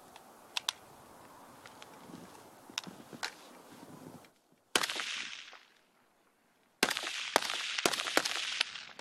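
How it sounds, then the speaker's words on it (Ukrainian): Rifle fire in single shots during military marksmanship training on an outdoor range, firing three rounds at a target: sharp, cracking reports come in short, irregular bursts over outdoor noise, the louder shots clustered near the end. "Одиночними по три патрона наблюдаємо ціль,"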